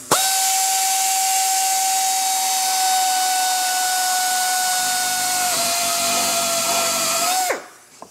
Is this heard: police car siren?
no